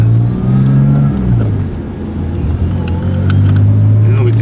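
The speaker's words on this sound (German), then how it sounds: "Ich beschleunige nur bis 60, Alter." BMW 325 fitted with both a turbocharger and a supercharger pulling gently from about 30 to 60, its engine note rising and falling close by inside the cabin.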